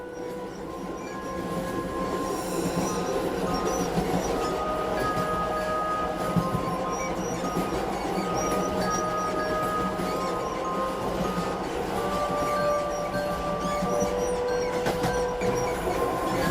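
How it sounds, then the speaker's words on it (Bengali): A running train in an animated horror story rolls along with a continuous loud rumble and faint metallic clinks and squeals, with no talking over it. "ট্রেন চলতে শুরু করে।"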